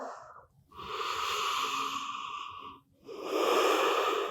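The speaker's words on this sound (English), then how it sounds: "Taking another breath." Two slow, deep breaths drawn and released during a morning hatha yoga flow, close and steady with a brief pause between them and no talking.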